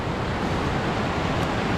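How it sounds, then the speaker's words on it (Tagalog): Strong, fast-flowing river water by a rural riverbank, a dense continuous rushing roar with no pauses, loud and close, with no voices. "tubig nitong ilog."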